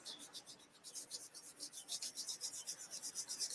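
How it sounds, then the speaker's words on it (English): Rhythmic back-and-forth rubbing of colour onto paper, a quick, steady series of soft, close scratchy strokes with no voices. "I think I'm rubbing it in too much"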